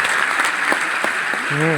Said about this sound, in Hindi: यदि आप मेरी बात से सहमत हो तो आप जोरदार ताली अपने बजा लीजिए।